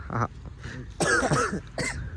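A few quick, harsh coughs close up, coming in short separate bursts with brief pauses between them.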